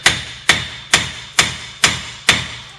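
A hammer strikes a Chevrolet Uplander's front hub to drive it off the steering knuckle, giving six sharp, evenly spaced metallic blows about half a second apart, close and loud.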